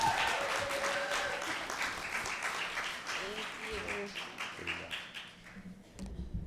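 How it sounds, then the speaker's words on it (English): Clapping from a graduation audience at a Laney College EOPS ceremony, scattered hand claps fading out as voices talk over them in a room. "Y'all need to clap it up"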